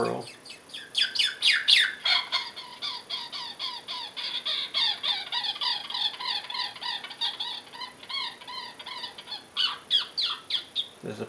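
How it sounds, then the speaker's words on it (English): A FoxPro Spitfire electronic game call plays a roaring red squirrel sound, a fast, loud series of chattering chirps and squeaky trills that runs continuously at close range. "This is a roaring red squirrel."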